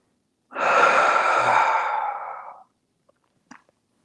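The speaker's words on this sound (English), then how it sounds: "Breathe deep." One deep, slow breath during a yoga session: a long, airy, close exhale lasting about two seconds. A couple of faint small clicks follow in near silence.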